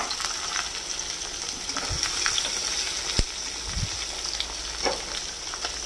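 Bay leaves and finely chopped onions hit hot oil, making a steady, close, loud sizzle that stays dense throughout, broken by a few soft thumps and spits.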